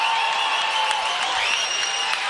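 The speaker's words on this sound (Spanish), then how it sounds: "La ovación, además, ¿no?" A large crowd at a political rally gives an ovation after a dedication, with sustained dense clapping and cheering at a steady level throughout.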